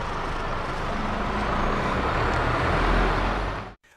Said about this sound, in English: you can practically hear the delivery truck pulling up right now